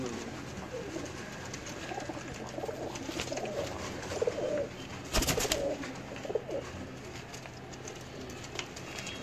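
Pigeons coo steadily at close range, low rolling throaty calls repeating in soft clusters, with a brief loud clatter midway.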